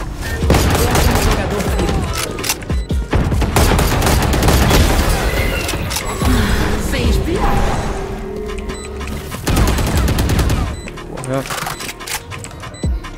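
Gunfire in the Valorant video game: loud, dense bursts of rapid shots and impacts nearly the whole time, with a short lull, mixed with a player's excited speech.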